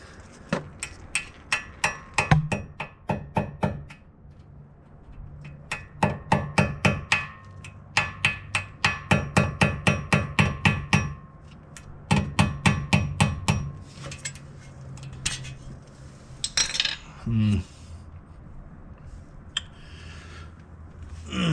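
Bursts of rapid metal hammer blows ring out close by while fitting an outer tie rod on a 2007 Toyota RAV4, several quick runs of strikes separated by short pauses, followed by scattered clanks and handling noises.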